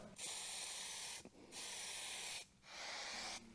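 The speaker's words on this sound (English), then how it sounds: "We're gonna hang them up and give them their first layer of primer." Spray primer applied to hung-up MINI Cooper parts: three long, loud, close hissing bursts from an aerosol can with short pauses between them, no voices.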